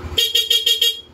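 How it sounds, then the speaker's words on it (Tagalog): A Bosch Europa horn on a Yamaha NMAX V2 scooter sounds in five quick, evenly spaced bright blasts, close and clear with no talking. "Yan po yung tunog ng Bosch Europa."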